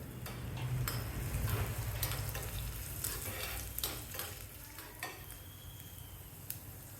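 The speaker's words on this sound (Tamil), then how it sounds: "நான் எப்போவுமே பொங்கல் தாளிக்கும் போது எண்ணெய் சேர்த்து தான் தாளிப்பேன்." Spices and broken cashews temper in hot oil for pongal, crackling and sizzling steadily and close by, with scattered sharp pops and a ladle stirring against the pan throughout.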